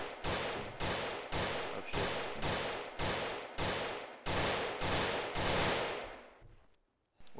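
Gunfire in a large Arma team-versus-team military video game, about ten loud bursts of automatic fire at a regular rhythm, close and dominant, ending in near silence.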